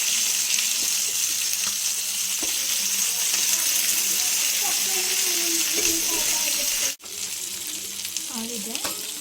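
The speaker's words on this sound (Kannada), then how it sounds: "ನೋಡಿ ಎಣ್ಣೆದು ಹೆಂಗೆ ಫ್ರೈ ಆಗ್ತಿದೆ ಚೆನ್ನಾಗಿ." Fish fries on a tawa in shallow oil with a steady, close hiss and sizzle that runs throughout, under faint clatter and a brief pause near the end.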